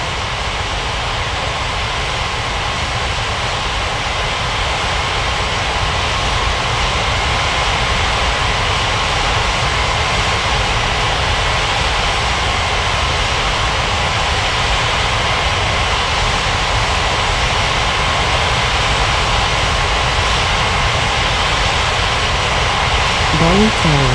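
China Southern jet airliner taxiing at Bali's Ngurah Rai airport, a loud, steady roar of jet engines that holds level throughout without letting up, with voices faintly present underneath.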